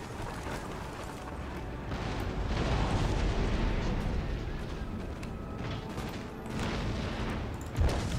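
Artillery pounds city gates in Empire Total War, a continuous roar of overlapping booms and rumbling blasts with a sharper bang near the end, no voices.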